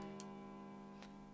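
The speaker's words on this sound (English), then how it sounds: "It's the clock telling us the time." An antique wall clock in a video game gives off a sustained, ringing chime tone. A couple of faint ticks sit over it, and the clip is short and quiet.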